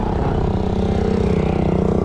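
A motorcycle engine running close by on a freshly asphalted street, with a steady throbbing, buzzing drone that holds at an even level for the whole short stretch, with no voices.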